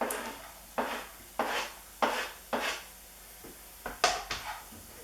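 A spoon scrapes and knocks around a pan of softened onion and garlic in several separate strokes, close up and fairly quiet, with no one talking.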